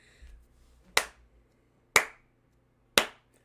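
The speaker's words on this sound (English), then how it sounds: "Slow clap for Washington." Three single hand claps land sharply and alone, each about a second apart in a slow deliberate rhythm, close and crisp in an otherwise quiet room after a brief low murmur.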